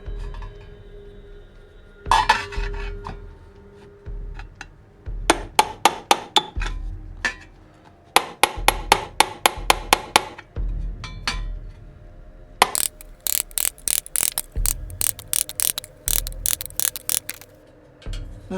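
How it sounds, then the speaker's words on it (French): A round-tipped chisel is hammered into metal between ridges to form a trilobite fossil relief, sharp ringing metallic strikes in quick bursts of several blows separated by short pauses, close and loud. "je vais utiliser mon burin avec un bout arrondi. Et je vais venir frapper entre chaque strie."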